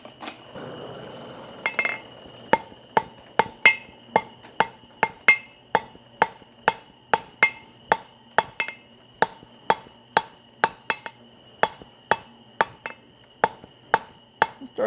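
Rhythmic hammer blows ring out on hot steel while forge welding drop tongs, about twenty sharp metallic strikes at a steady, even pace, close and clear against a faint background roar.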